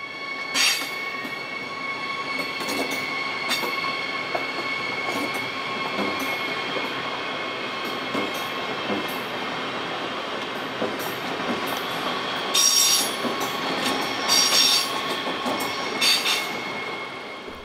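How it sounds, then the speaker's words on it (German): A Desiro High Capacity regional train run by Go Ahead Bayern rolls loudly through Donauwörth station, a continuous close rumble of wheels on rails with repeated high metallic squeals and clicks as the cars pass. "Das war ein Desiro High Capacity, der von Go Ahead Bayern gefahren wird."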